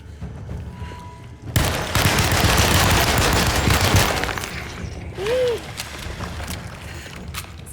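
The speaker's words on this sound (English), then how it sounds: "It's Tommy gun time, baby." A Tommy gun fires in the video game Alone in the Dark, a loud, sustained burst of rapid automatic shots that starts abruptly and rattles on for a few seconds before cutting back to quieter ambience with a brief tonal whoosh.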